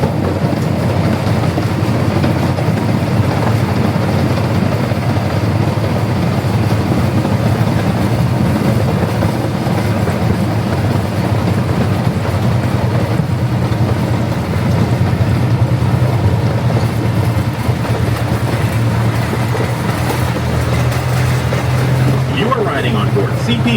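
Lake Winnie Tour Railroad train CP Huntington number 79 rolls along with a continuous rumbling, clattering ride noise heard from on board, steady and fairly loud, with faint voices mixed in.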